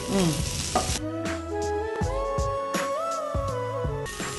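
A spoonful of chopped onions goes onto pesarattu cooking on a hot pan, giving a soft sizzle and light stirring under steady tonal background music.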